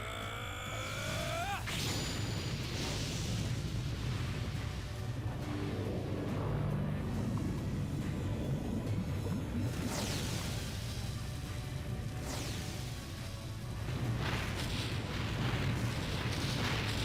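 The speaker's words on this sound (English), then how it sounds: "Dart, why don't you hit him with Explosion here while you're still powered up?" The Explosion attack in the video game Legend of Dragoon plays out as a sustained roaring blast with rising whooshes and rumbling booms, loud and continuous throughout with no talking.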